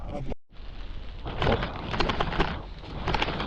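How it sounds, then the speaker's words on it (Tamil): Heavy rain pours down at a hillside homestay in Munnar, a dense, continuous hiss of falling water with heavier bursts, heard close and loud throughout. "ஓகே செம்மையாக மழை பெஞ்சிட்டு இருக்கு."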